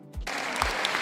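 Audience applause at an EDM-scene interview, dense steady clapping that fills the whole moment at moderate volume.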